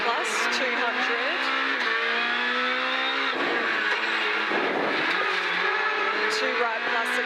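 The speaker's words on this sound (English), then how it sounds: "Mark Petter grabs the limelight through SS1, fastest 2-wheel drive across the 2K tarmac stage" Two-wheel-drive rally car driven hard on a tarmac stage of the Quit Forest Rally, a round of the Bosch ARC: a close, loud engine revving and climbing through the gears, with brief drops at shifts and a short tire squeal, alongside a voice.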